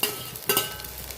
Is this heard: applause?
no